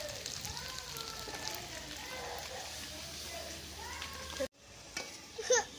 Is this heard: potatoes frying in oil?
yes